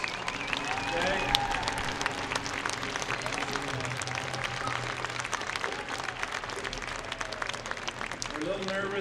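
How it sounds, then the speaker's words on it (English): A crowd at a high school football game applauds Doyle and Lisa Hale, a dense and steady wash of clapping lasting several seconds, heard at a distance with a voice talking over it. "Give Doyle and Lisa a big round of applause."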